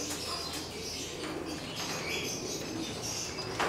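Racing pigeons arrive at a loft during a long training flight before a race, with soft coos, chirps and brief wing flaps over an outdoor background, fairly faint and with no talk.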